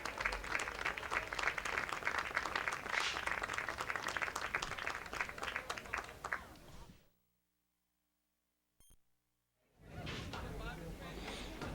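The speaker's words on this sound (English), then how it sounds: "let's give a big round of applause to our seniors on the boys lacrosse team and" Crowd applause at a high school boys lacrosse game honoring the seniors and their parents, dense clapping that cuts off abruptly to silence, then resumes briefly at the end.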